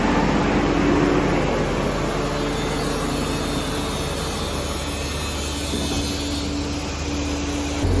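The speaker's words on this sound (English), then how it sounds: "they're starting to shoot the Shotcrete, and you can kind of see how that comes out" Shotcrete sprayed from a trailer pump line with an air compressor blowing air into the hose, giving a steady, loud broadband hiss and rumble with a constant low hum throughout, no voices.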